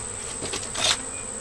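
Honey bees buzz steadily up close, eight inches from the hive entrance as they return home, a dense insect hum with a few louder passes as individuals fly near.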